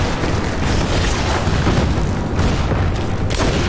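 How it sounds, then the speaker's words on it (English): A bomb goes off in the Lara Croft and the Temple of Osiris video game, a dense, loud, rumbling blast with a long noisy tail that fills the whole moment, with no talk over it. "Oh, I just bombed myself."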